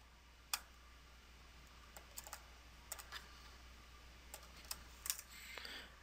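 Keys clatter on a computer keyboard as bank account numbers are entered into software, a faint sparse run of short clicks in small irregular bursts over a quiet room, with no talking.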